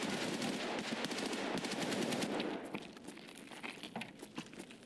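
Automatic gunfire from AI bots in the SPT single-player shooter game rattles in dense, loud rapid bursts for a couple of seconds, then thins into quieter, scattered shots and crackles.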